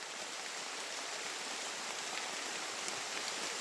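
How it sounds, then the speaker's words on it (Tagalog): Steady rain falls as an even, hissing wash of sound, fairly quiet and constant throughout with no voices. "Talagang umulan ka pa ha."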